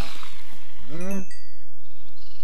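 Sheep and cows in a farming video game give a cluster of bleating, crying calls, one loud rising bleat standing out near the middle and fainter animal cries around it.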